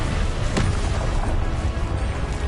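A Confringo blasting spell from Hogwarts Legacy detonates as one sharp burst near the half-second mark, then decays into a dense, rumbling low roar of game effects.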